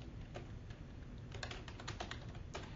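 Someone types a bulleted list on a computer keyboard, with quiet, close, irregular key clicks tapping along steadily throughout.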